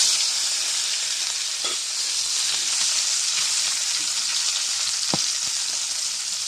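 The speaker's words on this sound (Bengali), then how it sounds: "মাছটা ভাজা হয়েছে" Fish fries in hot oil in a pan for a fish mash, making a loud, continuous close hiss and sizzle with a couple of sharp pops and no voices.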